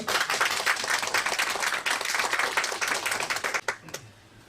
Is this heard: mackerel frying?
no